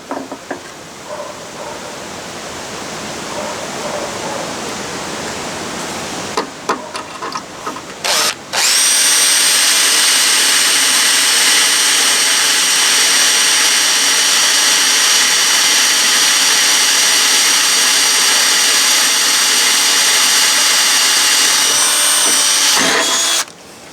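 A power drill whines steadily and loudly for a long stretch, boring into a broken grade 4.6 steel bolt on a Ford Falcon ute, with a few softer clatters and pauses before it starts.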